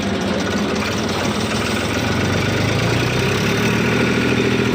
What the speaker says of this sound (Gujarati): ટ્રેક્ટરમાં કંઈક ગમી થઈ ગયું જે ક્લચ પ્લેટનું હાઉસિંગ આવે ને એમાંથી અવાજ આવે